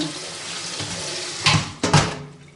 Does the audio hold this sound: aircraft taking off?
no